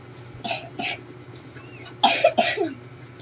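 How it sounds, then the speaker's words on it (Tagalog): A child coughs several times in short bursts, with two quick pairs of coughs separated by a brief pause, close and fairly loud. "Inuubo ka?"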